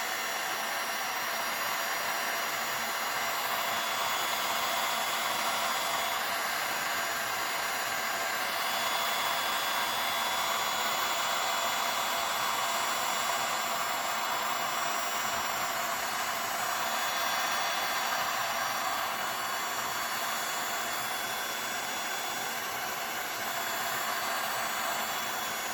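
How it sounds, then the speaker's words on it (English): A heat gun on its low setting blows over wet resin on an ocean-wave painting, making a steady, unbroken airy roar at close range that holds at an even loudness for the whole stretch. "Putting the heat gun again with this thing, low setting."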